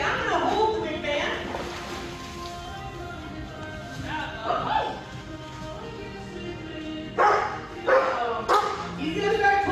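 A large dog barks, yips and whimpers in bursts close by, mixed with people talking over a steady background.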